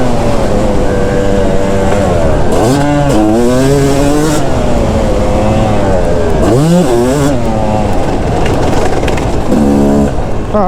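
A Yamaha YZ250 two-stroke dirt bike engine revs hard and loud, its pitch sweeping up and down repeatedly through gear changes as it is ridden close by, with no talking.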